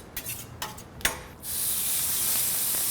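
Chorizo hits a griddle coated in vegetable oil over medium heat, a few light knocks and scrapes giving way to a sudden, steady, bright sizzling hiss that holds loud and close.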